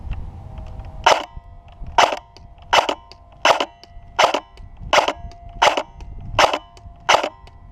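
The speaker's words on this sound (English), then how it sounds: "this is the first shooting test. I'm about 30 feet away, 35 feet away, and I'm using .25 gram BBs for this test." A Krytac MK2 CRB airsoft gun fires .25 gram BBs in nine sharp, evenly spaced shots, each a loud crisp crack roughly every three-quarters of a second against a quiet outdoor background.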